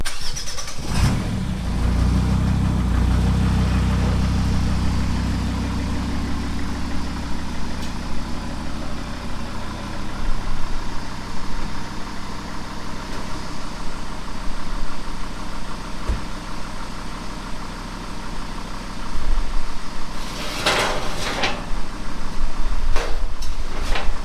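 A Jeep Grand Cherokee in two-wheel drive idles steadily with a low rumbling drone before driving up a loose ramp, a few sharp clunks and knocks standing out near the end, with no talking.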